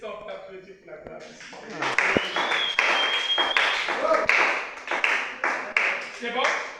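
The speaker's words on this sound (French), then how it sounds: "Est-ce qu'on peut applaudir pour la grâce?" An audience claps at a church gathering, the applause starting sparse and then swelling into steady, fairly close clapping that runs on with voices mixed in.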